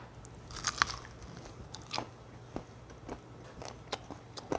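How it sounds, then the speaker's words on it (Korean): Crisp bites into a spicy fried chicken leg, sharp close crunches recurring every second or so over quiet background, with chewing between them. "다리부터 하나 뜯어볼게요"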